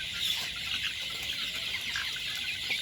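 A dense, constant chorus of many broiler chickens clucking and chirping together, steady and unbroken, like a crowded lit poultry shed.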